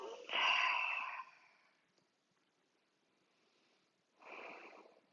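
Slow breaths during a seated yoga session, feet flat on the floor: a long audible breath near the start, then quiet, then a softer second breath toward the end, close and isolated.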